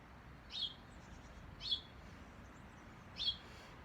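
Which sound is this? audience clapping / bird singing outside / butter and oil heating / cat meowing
bird singing outside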